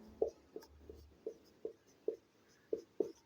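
Chalk or marker tapping and scratching out equations on a board, about eight short distinct strokes in an irregular rhythm, close and clear in a quiet room.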